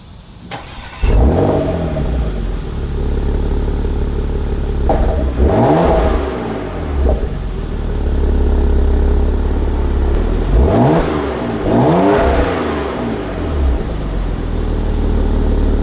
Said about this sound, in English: let's get a good listen at that classic Porsche exhaust